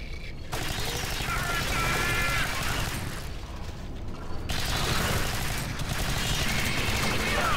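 Continuous dense gunfire from the Alien Swarm video game, rapid automatic bursts with mechanical clatter, loud and near, broken by two brief pauses.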